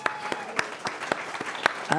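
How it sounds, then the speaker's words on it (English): Audience applause at an artist talk, heard as sparse, scattered claps from a small crowd in a room rather than a full ovation. "we should give Bettina a big round of applause"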